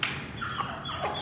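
Chickens clucking close by while being fed grain, a short burst of busy fowl calls with no talk.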